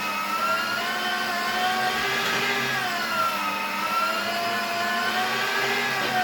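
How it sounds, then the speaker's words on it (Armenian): An electric meat grinder mincing meat for ishli kufta gives off a steady, loud motor whine with a slightly wavering pitch, running continuously and alone. "հիմա սկսեմ աղալ"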